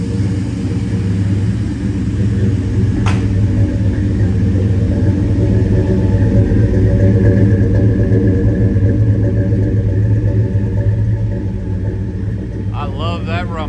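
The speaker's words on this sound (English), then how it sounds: "what a symphony of sound coming out of that big block" A numbers-matching big block V8 in a 1972 Chevrolet El Camino idles after a cold start, a steady deep rumble holding loud and close throughout, with a voice talking over it.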